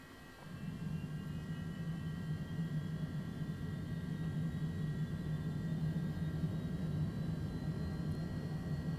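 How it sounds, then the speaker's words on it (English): A Bombardier Challenger business jet's right engine spools up during start, a steady, loud low roar with a thin rising whine building over it, heard from inside the aircraft with no talking. "Oh, the sound of the engine just taking up."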